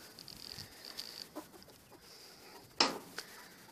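Chickens running into a hay field cluck softly a few times outdoors, with one sharp, louder squawk standing out near the end.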